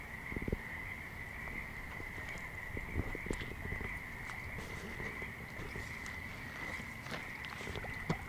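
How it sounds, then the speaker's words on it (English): A frog at a natural unlined pond gives a steady, rattling croak that holds through the whole stretch, close and clear over light outdoor rustles and a few soft knocks. "There's a frog."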